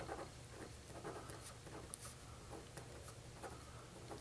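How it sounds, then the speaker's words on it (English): A pen or pencil writes on paper in a classroom math lesson, giving faint, close scratching strokes in an irregular rhythm over a quiet background. "so I'm going to go ahead and write."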